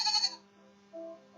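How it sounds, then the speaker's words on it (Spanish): A single sheep bleats loudly and close by for under half a second, then the sound fades into a quiet, steady tonal hum. "las ovejas"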